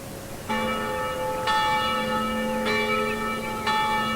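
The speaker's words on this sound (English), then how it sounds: "The bell in the nearby church began to toll." A nearby church bell tolls four times at slow, even intervals, each strike ringing out and sustaining into the next over a faint background.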